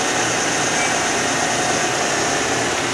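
A Monarch EE lathe's spindle turns at 1,000 RPM, giving a steady, even whir with broad machine hiss for three seconds.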